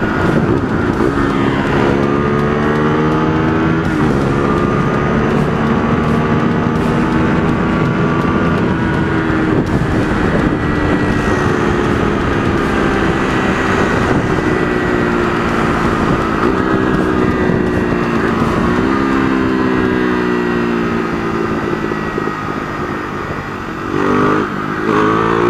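A KTM RC 390 motorcycle fitted with a Powertronic ECU revs hard and loud up to high rpm, its rising and falling engine whine swelling through repeated gear pulls across the whole stretch.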